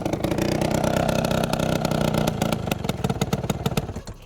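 An Adly scooter engine idles loudly and close by after a carburetor screw adjustment. Its steady putter turns rough and stuttering toward the end, as if the engine is faltering.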